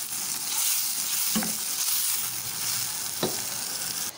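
Spices fry in a pan while dal mash is being made, giving a steady, close hiss of sizzling. Two brief stirring scrapes cut through it, with no voices.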